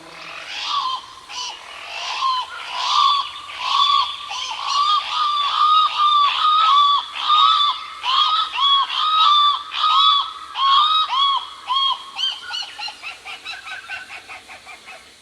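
A recorded eerie bird call of a species linked to the Scottish Highlands, played back: a long run of harsh, honking, screech-like notes repeated about once a second, loud and steady, then tapering off toward the end.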